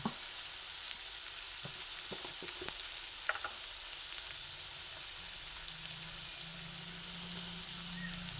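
Drumstick flowers fry in oil in a pan, giving a soft, steady sizzle with faint scattered pops and crackles and no voices.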